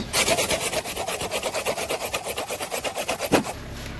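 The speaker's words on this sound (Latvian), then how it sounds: "Zāģēs." Handsaw cutting through roadside bush branches gathered for bath brooms, fast rhythmic rasping back-and-forth strokes, close and loud, about fourteen strokes before stopping abruptly.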